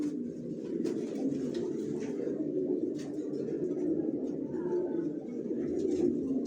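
A pair of chocolate-coloured racer pigeons coo softly and continuously at close range, with a few faint wing or cage rustles and no talking.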